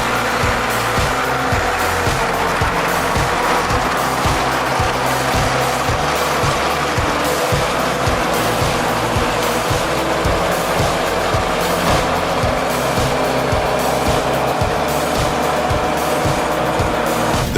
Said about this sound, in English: When a heavy truck loaded with wood enters a muddy area, the immense weight increases the pressure on the wheels